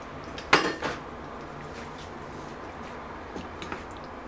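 A lid set down on a cooking pot of simmering tomato and chicken-liver stew gives one sharp metallic clatter with a short ringing tail, then a steady low background and a couple of faint clinks.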